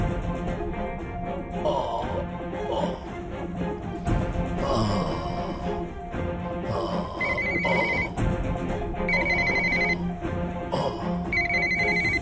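A telephone rings in a domestic drama scene, repeating electronic ring bursts in a steady pattern with no talking.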